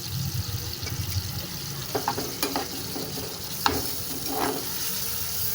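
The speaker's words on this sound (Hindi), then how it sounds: "मीडियम फ्लेम पर कीमे को पहले अच्छी तरह फ्राई कर लेंगे" Minced meat (qeema) fries over a medium flame with a steady sizzle, broken by several scraping stirs of a spoon against the pan, close and clear with no talking.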